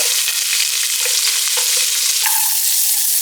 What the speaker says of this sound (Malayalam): അപ്പോൾ എണ്ണ ചൂടായതിനു ശേഷം നമുക്ക് ഇഞ്ചി വെളുത്തുള്ളി നമ്മൾ ആദ്യമേ കൊത്തി അരിഞ്ഞ് വെച്ചത് ഇതിനകത്തേക്ക് ഇട്ട് കൊടുക്കാം കേട്ടോ